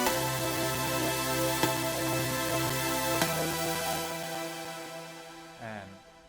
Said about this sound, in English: It's this preset called Tuna Saw